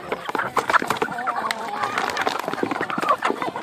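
Free-range farm chickens clucking constantly at close range, a busy overlapping chorus of short clucks and calls from several birds that fills the whole stretch with no speech.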